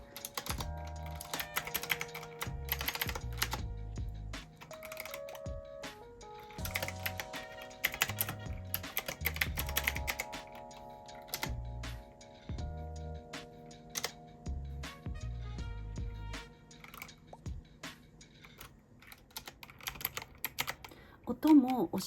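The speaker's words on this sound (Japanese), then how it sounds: "青軸なのでカチャカチャという音がします。" Brisk, clacky typing on a retro typewriter-style mechanical keyboard with blue switches, close-up keystrokes in uneven bursts with short pauses and a few louder key hits.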